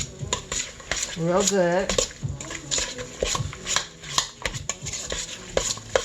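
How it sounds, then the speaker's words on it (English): Spoon stirring tuna and relish together in a bowl, a run of quick scraping and clinking strokes up close, while a person speaks briefly and hums over the mixing. "And then we're going to mix it"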